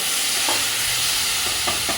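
Masala fries in a pan for a rajma and urad dal dish as a little water is added, a steady hissing sizzle with a few soft stirring scrapes and no talk.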